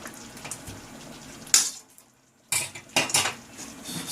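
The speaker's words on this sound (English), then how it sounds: "Stir it very nicely." A spoon clinks and scrapes against a pan while cream and butter are stirred, a few sharp metallic knocks between softer swishing, close by with no talk.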